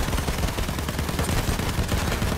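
A bomber plane drops bombs in the video game Battlefield 1 amid a dense, continuous barrage of rapid blasts and crackling booms, loud and close, with no pause and no voices.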